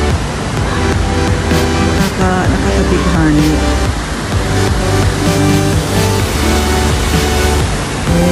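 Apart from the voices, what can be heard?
flowing water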